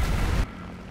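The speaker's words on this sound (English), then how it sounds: "And he dropped the bomb on me." A bomb dropped during an aerial dogfight in a video game bursts into a loud, broadband boom that fills the first half-second and then cuts off abruptly to a quieter rumble.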